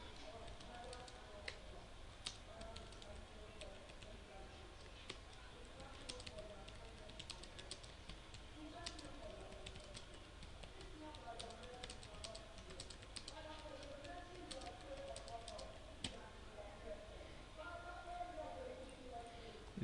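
Fingers tap steadily on a computer keyboard while a WordPress post is written, a continuous run of soft, close keystrokes lasting the whole stretch with a faint voice in the background.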